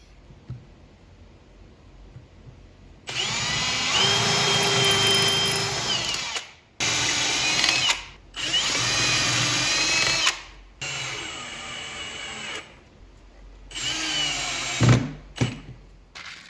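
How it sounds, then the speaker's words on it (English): A power drill bores a centered pilot hole while building drawer storage into a table saw, several loud whining bursts of a few seconds each separated by brief pauses, close and without talking. "When you go to put in the hole, it automatically finds the center so that your pilot hole doesn't go all wiggle wobbly"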